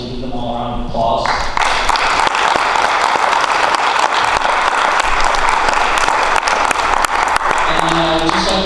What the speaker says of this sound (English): So I'd ask you to now make some noise and give them all a round of applause.